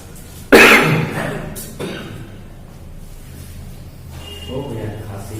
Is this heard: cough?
yes